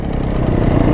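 Suzuki DRZ motorcycle engine running close by, a steady low throbbing idle with no talk.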